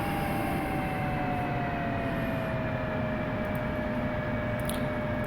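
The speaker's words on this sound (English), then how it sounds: "Going to taxi out to the runway" An F-16C jet taxiing in the DCS flight simulator, a steady loud engine roar with a sustained whine and tonal hum, unchanging and continuous, with no talking.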